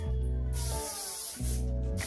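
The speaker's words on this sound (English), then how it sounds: "Heat spray." Heat protectant spray misted onto sectioned hair before curling with a ghd Platinum+ flat iron, heard as two close, steady hissing bursts of about a second each separated by a short pause.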